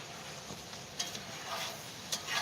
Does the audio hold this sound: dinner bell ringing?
no